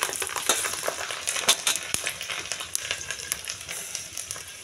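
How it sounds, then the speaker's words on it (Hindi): Cumin seeds and garlic sizzling in hot oil over a rustic stove, a continuous crackling fry with clinks and scraping of a stirring spoon, no talking. "तेल गर्म हो गया है, फिर इसमें डालती हूँ मैं 1 चम्मच धनिया, नहीं जीरा, लहसुन डालती हूँ"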